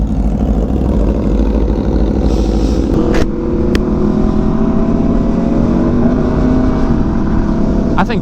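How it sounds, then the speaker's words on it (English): An Aprilia RSV4 Factory motorcycle engine revs loudly and close, a deep, throaty roar that rises and falls across the whole stretch with no talking. "you definitely hear the sound difference. This one is deeper and quieter."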